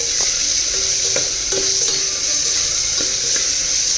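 Dried coconut, poppy seed and spice paste fries in a pan for a dhaba-style mixed vegetable curry. A loud, steady sizzle runs throughout, with occasional clicks from stirring and no voices.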